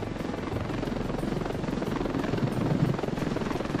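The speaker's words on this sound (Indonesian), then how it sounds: "Helikopter?" A loud, steady helicopter rotor thumps continuously and close by in the video game Ravefield, with a dense engine roar filling the whole stretch.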